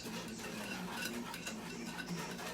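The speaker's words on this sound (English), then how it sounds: "I am going to use the whisk on this one." A whisk stirs a brown sugar sauce in a pot while jerk turkey wings are being cooked. The scraping and stirring is soft and continuous, low in level, with no talk.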